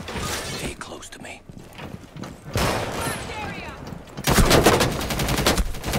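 Video game gunfire crackles in bursts, with rapid automatic shots growing heavier toward the end, mixed with game effects while a player talks over them.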